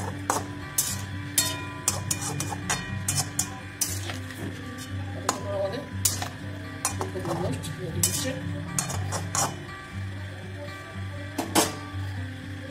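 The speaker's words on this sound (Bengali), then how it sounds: "মশলার জলটা আমি এর মধ্যে দিয়ে দেবো, দিয়ে আমি একটু ভালো করে এটাকে ফুটতে দেবো" A pan of cauliflower roast with spiced water added, stirred with a metal utensil that clinks and scrapes against the pan over a steady low simmer, with a voice speaking throughout.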